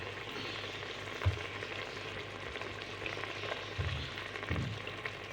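Tinda gourd and mutton fry in a cooking pot with a steady close sizzle, broken by a few short clatters of stirring around the middle and near the end.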